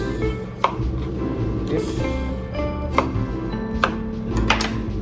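A knife chopping food on a board while garlic shrimp is prepared in a Japanese home kitchen, several sharp separate cuts over a low background hum, with a brief spoken word.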